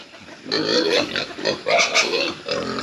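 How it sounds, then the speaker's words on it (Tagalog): Free-range farm pigs grunt and squeal in repeated close bursts while feeding in their pen, loud and overlapping with short pauses between calls. "So ngayon naman ay kumakain na yung mga alaga nating baboy dito sa loob."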